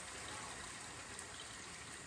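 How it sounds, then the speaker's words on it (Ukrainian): Cold tap water pours from a half-litre jar into a pot, a faint continuous splashing gush that runs evenly for a couple of seconds with no talking. "я виливаю водички всю півлітрову баночку"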